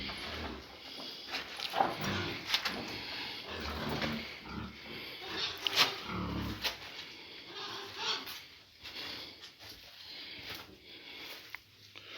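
A couple of pigs in a village barn grunt and sniff close by, with a steady, busy stream of snorts and shuffling noises throughout.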